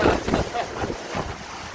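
Hurricane Ida's wind and water buffet a home in Houma, Louisiana, with a brief, loud, rumbling gust of storm wind battering the microphone over a wash of rushing water.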